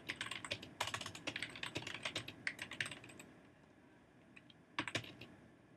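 Someone types a short note into a Google Docs document on a computer keyboard: quick, uneven bursts of crisp key clicks, close and clear, pausing briefly before a final flurry of keystrokes, with no voices.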